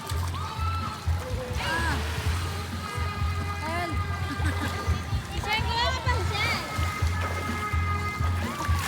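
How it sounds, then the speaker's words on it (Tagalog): Strong waves surge and slosh continuously, close and loud, while several people talk and call out over the churning water throughout. "Malakas ang alon."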